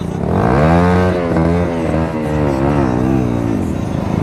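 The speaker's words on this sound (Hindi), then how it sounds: "इसमें देखो एग्जॉस्ट लगा हुआ है, रेफ करो" Motorcycle fitted with an aftermarket exhaust revving loudly up and down near by, the engine note rising and falling through several throttle blips.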